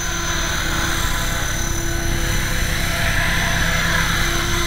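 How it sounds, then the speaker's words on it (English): Real helicopter flying at a distance, a steady, droning rotor and engine hum holding at an even level throughout with no talk. "I hear a real helicopter in the distance."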